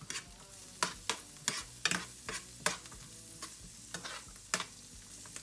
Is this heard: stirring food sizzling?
yes